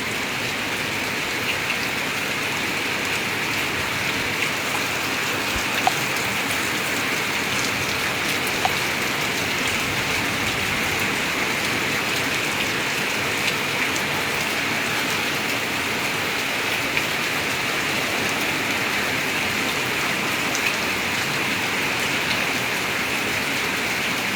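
Steady rain pours down continuously at Anakkallu, Kanjirappally, a dense even hiss of drops striking surfaces, unbroken and fairly loud throughout.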